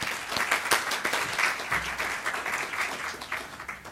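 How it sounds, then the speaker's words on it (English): Brisk applause from an audience at a startup and entrepreneurship event, dense clapping close by and continuous throughout, fading slightly at the end. "So a quick round of applause for all those folks"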